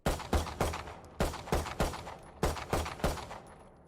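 A Valorant pistol fires single left-click shots in quick, irregular bursts of sharp cracks, each with a short decaying tail, close and loud with brief pauses between groups.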